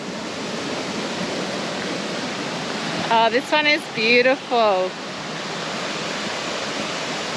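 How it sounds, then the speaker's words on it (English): Horseshoe Falls, a waterfall spilling softly into a small pool, gives a loud, steady broadband roar throughout, with a person speaking briefly over it midway. "It is called the Horseshoe Falls. You can hear it."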